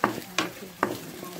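Onions frying in a pan while being stirred, with three sharp scraping strokes over a steady close sizzle.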